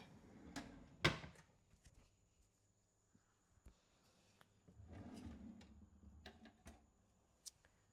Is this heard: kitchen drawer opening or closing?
yes